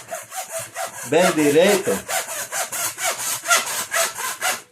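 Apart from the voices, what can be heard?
sawing through a tube for a homemade wood-effect roller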